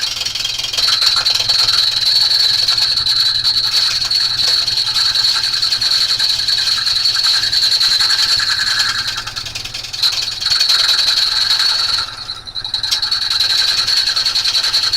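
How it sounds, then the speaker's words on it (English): A wooden bowl spins on a lathe while a homemade bowl gouge cuts it, making a continuous whining hum with a steady high tone and brief dips near the end, close up with no voices. "this is probably pretty boring just to watch this wood being cut"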